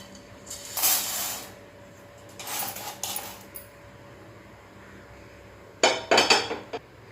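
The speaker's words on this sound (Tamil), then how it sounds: "நம்ம இதை ஒரு பிளேட்டில் அதே பிளேட்டில் நம்ம ட்ரான்ஸ்ஃபர் பண்ணிக்கலாம்" Golden roasted chana dal poured from a pan onto a plate for idli podi, heard as three separate bursts of dry rattling and clinking against the dish with quiet pauses between them, no talk.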